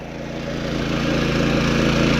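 A tractor engine idles on a Konkan farm. Its steady, low, harmonic hum grows slightly louder over a couple of seconds, with no other sounds present.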